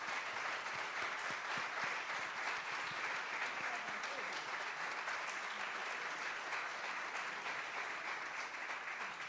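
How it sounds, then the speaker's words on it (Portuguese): A church congregation at a Sunday service applauds in a dense, steady wash of clapping that holds evenly throughout, moderately distant with a faint murmur of voices beneath. "eu queria que a gente aplaudisse a Jesus"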